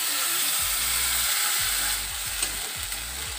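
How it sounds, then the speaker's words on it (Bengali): Ginger garlic paste hits hot oil in a pan where eggs were just fried, giving a steady, close sizzle with soft stirring scrapes and no talking. "এবার চলো আদা রসুন বাটাটা দিয়ে দিই, পুরোটা দিই।"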